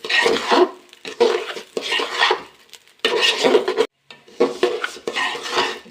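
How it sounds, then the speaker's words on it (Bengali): Rice and lentils being stirred in a pot as they fry for bhuna khichuri, close, loud scraping strokes of a metal spoon against the pot in repeated bursts separated by short pauses. "কিছুক্ষণ পর পর নেড়ে দিব, এরকম করে বেশ কিছুক্ষণ পর নেড়ে দেব।"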